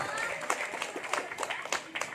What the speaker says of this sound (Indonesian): Subhanallah. Tepuk tangan dong.